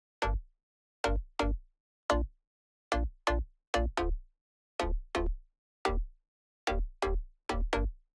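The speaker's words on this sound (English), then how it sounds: "when the pluck and the sub play together," Bright synth plucks and a deep sub bass hit together in a repeating syncopated pattern, each note decaying quickly, playing alone without voices.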